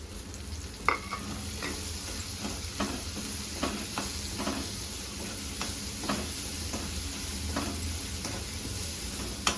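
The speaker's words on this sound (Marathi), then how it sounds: "थोडीशी मिरची आणि लसूण झाल्यानंतर मग कांदा टाकायचा, कारण कांदा लवकर होतो." Onion, green chili and garlic sizzle and fry in a pan for a dill greens dish, a steady crackling hiss broken by the soft scrapes and taps of stirring.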